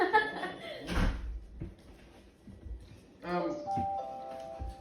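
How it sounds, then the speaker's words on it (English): A doorbell chimes with a clear, sustained ring near the end, following some laughter and talk earlier. "Doorbell."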